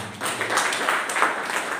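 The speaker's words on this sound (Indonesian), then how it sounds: "Berikan tepuk tangan bagi Tuhan." A church congregation applauds during a service, a short dense burst of many hands clapping together, fairly loud and steady for about two seconds.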